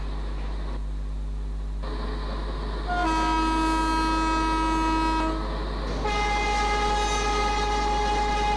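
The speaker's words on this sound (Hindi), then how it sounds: "सेक्शन में हॉर्न बजने का अलग ही मज़ा आता है।" Diesel locomotive horn of the 12628 Karnataka Express in the MSTS Open Rails train simulator, two loud sustained blasts over a steady engine rumble, the second starting after a short gap.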